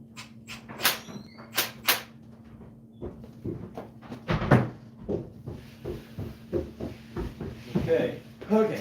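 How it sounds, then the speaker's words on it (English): An indoor door is pushed shut, giving a few sharp knocks and rattling clunks spaced out over several seconds while a person keeps talking nearby. "I gotta make sure I close this door."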